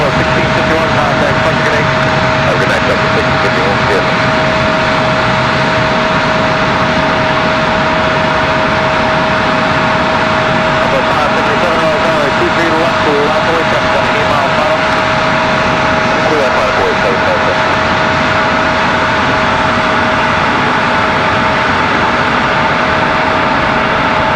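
A Boeing 737-800 jet airliner at Raleigh-Durham International Airport produces a loud, continuous engine roar with a steady high whine, while a voice talks faintly underneath.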